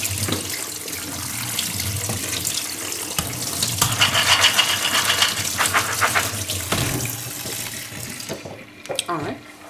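Soaked soybeans rinsed in a sieve under a running kitchen tap, a steady close splashing gush of water that swells in the middle and cuts off near the end, with a voice speaking over it.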